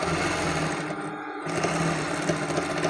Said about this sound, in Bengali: এই যে আমি মেশিন সেলাই দিয়ে দিচ্ছি গলায়।